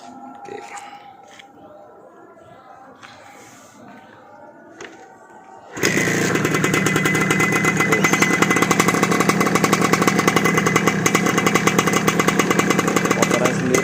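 A Suzuki RK motorcycle engine fires up after a quiet stretch of faint voices, then settles into a loud, steady, close idle with an even rapid pulse.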